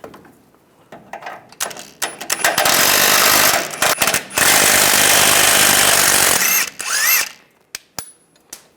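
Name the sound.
removing a nut with an 18mm socket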